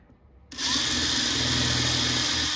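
A power drill running in reverse bores through the clear plastic playfield of a Cyclone pinball machine, starting abruptly after a near-silent moment and then whining at a steady, loud, high pitch, close up.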